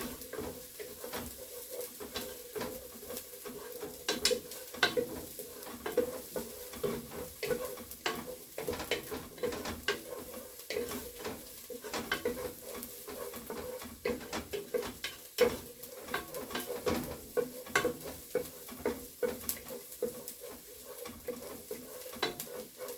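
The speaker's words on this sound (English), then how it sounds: "I prefer to saute them for a little while until they reach that caramelized onion stage" Onions sautéing in a pan for chili, cooking toward caramelization, with a steady close sizzle and frequent clinks and scrapes of a utensil stirring against the pan, no talking.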